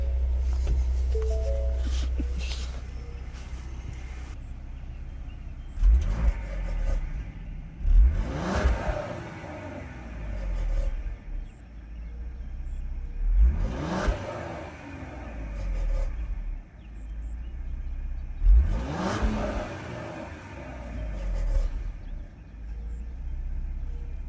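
A 2020 Ford Explorer ST SUV engine with stock exhaust idles and is revved three times, each burst climbing sharply in pitch and then settling back, spaced several seconds apart.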